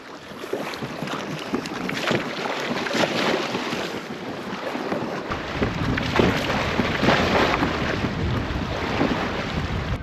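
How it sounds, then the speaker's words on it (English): Strong wind blows across a lake bank during barramundi fishing, buffeting the microphone with a constant loud roar and gusty rumble, water lapping beneath, and no one speaking. "There is so much wind pushing onto that bank"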